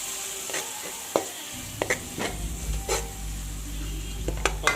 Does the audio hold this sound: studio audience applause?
no